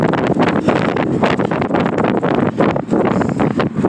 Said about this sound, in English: the wind's picking up here